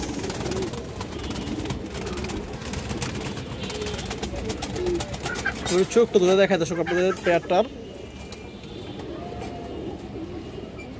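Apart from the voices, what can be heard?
pair of silver pigeons cooing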